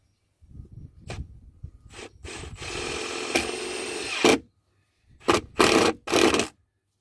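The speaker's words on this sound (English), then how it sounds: "going to start 2 screws in this plank so I can hold it up and unscrew it in." Screws are driven into a wooden plank in short bursts of tool whirring and grinding. One long run is followed by several brief pulses, and quiet gaps fall between them.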